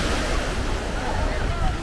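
Gentle surf on Kobuleti beach on the Black Sea, black sand shore with a slightly choppy warm sea, giving a steady close wash of breaking waves and wind noise for the whole stretch.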